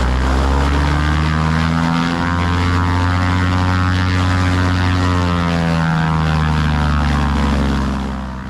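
A Cessna Skywagon floatplane's piston engine and propeller drone loud and close, a steady harmonic buzz that swells and eases slightly in pitch, with no talking.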